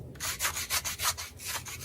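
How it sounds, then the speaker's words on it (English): A knife scraping a hog's skin during cleaning makes about seven steady, rhythmic rasping strokes, close and moderately loud, with no talk. "So I'm gonna scrape it right there."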